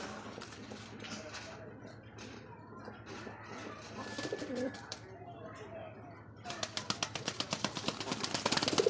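Pigeons at a bird sale cooing in soft, repeated low calls, with people talking over them; near the end a rapid train of sharp, loud rhythmic pulses takes over.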